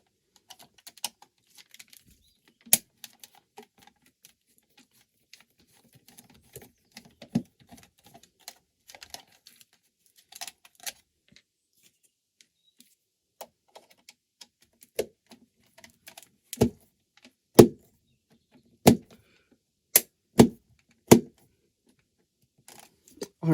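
Screws are removed from a PlayStation One console. There are scattered small ticks and clicks, then several sharp, loud metallic clicks near the end, with quiet gaps between them.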